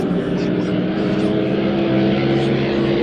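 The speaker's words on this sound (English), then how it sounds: "sounds like it's gone a bit fat, the boat" A loud, steady engine drone roars throughout, a racing boat's motor holding a constant buzzing pitch with a voice faintly mixed in.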